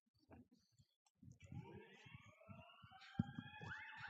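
A police siren wails faintly from outside, its rising and falling tone under a quiet indoor city council meeting where people talk and shuffle.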